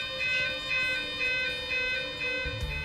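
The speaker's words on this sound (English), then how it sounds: "The site alarm is a continuous two-tone siren and sounds like this." A continuous two-tone site fire alarm siren alternating steadily between two pitches, loud and close, with no talking.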